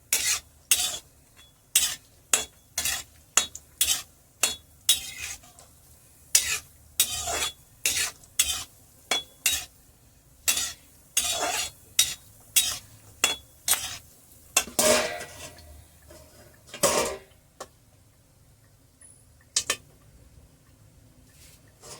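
Edible gum (gond) frying in hot fat for laddu, puffing and crackling while being stirred; a series of sharp scraping and rustling bursts repeats in a fairly regular rhythm, close and moderately loud, with no speech.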